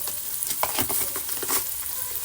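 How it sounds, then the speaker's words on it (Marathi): Tomatoes with salt and bitter gourd sautéing in a pan over a low flame, a steady soft sizzle with a few light stirring scrapes, close and alone. "हे सगळं लो फ्लेमवरतीच परतून घ्यायचं आहे"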